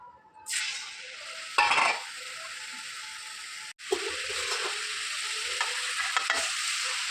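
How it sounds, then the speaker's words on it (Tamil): Manapparai murukku deep-frying in hot oil, a loud, continuous bright sizzle that surges as dough goes in, with brief clinks and scrapes of a utensil, close and alone. "மணப்பாறை முறுக்கு நல்லா சூடான எண்ணெயில் போட்டு எடுத்துக்கலாம்"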